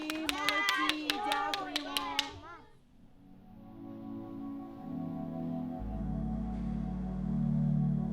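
A small audience at an art school ceremony claps after an award, a quick run of sharp, distinct handclaps for about two seconds that then stops, giving way to talking and a low sustained tone.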